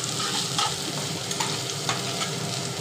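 Chopped onions and green chillies fry in a pan for Bengali aloo dum, giving a steady close sizzle with a few soft spatula stirs and no voices.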